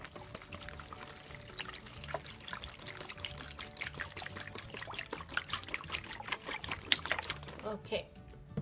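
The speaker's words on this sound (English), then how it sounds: "Now I'm gonna open this and pour water in here." Water pours steadily into a Ziploc bag outdoors, with continuous close trickling and splashing throughout and a brief louder splash near the end.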